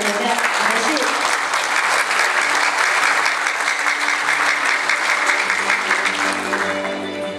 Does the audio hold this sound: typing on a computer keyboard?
no